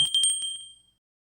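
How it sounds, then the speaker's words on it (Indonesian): A bright bell ding rings out clearly, a quick metallic strike whose ringing tone fades away over about a second. No voices. "bunyikan lonceng"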